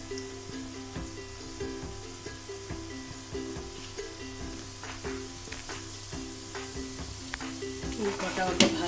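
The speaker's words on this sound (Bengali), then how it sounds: "কটা অল্প ভাজি।" Chicken popcorn pieces sizzle steadily in hot frying oil, a soft continuous crackle and hiss that grows a little louder near the end, with a low hum underneath and a voice speaking.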